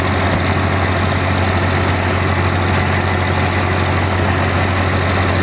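A loud, steady 12-valve Cummins diesel in a first-generation truck, modified with new governor springs, idles nearby with a low rumbling drone and constant vibration, no talking.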